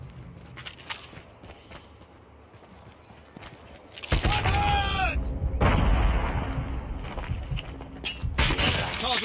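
Bursts of gunfire from the Call of Duty Mobile game, loud and repeated, with rapid shots and booming blasts in the second half over a steady game background.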